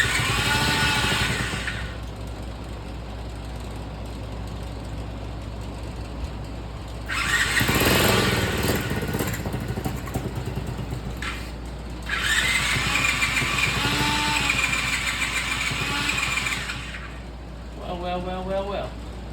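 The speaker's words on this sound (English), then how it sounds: "we're going to try to start and see if it'll actually start." A 49cc mini chopper's small engine sputters into life in bursts, cranking and catching loudly with revving tone, then running briefly before dropping out, with someone talking between attempts.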